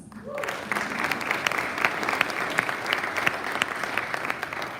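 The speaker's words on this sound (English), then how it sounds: "Give them a round of applause." A room of attendees at a Rotary club year-end meeting breaks into steady, sustained applause, a dense close clatter of clapping that continues for several seconds with a few voices mixed in.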